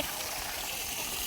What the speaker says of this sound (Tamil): இது கை கழுவி